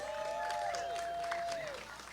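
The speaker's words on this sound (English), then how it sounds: "Round of applause for our bronze medalist," An audience at a pickleball medal ceremony applauds a bronze medalist with a sustained burst of clapping. An announcer's voice carries over the applause, which fades slightly at the end.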